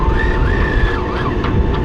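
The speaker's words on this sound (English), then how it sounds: "You hear the whining. That's the autopilot working." Boat autopilot motor whining while under way, a wavering electric whine that rises and dips over a loud rumbling wash of wind and water.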